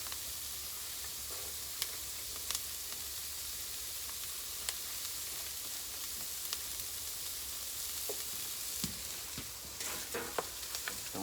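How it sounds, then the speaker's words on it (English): Garlic sizzles in a paella pan with a steady, fairly quiet hiss, broken now and then by small crackles and pops; no one speaks. "Now I'm going to go ahead and add the garlic."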